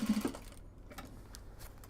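A sewing machine stitches kimono fabric for upcycled obi bags, giving a short close burst of steady mechanical whirring at the start, then quieter faint clicking and handling noise.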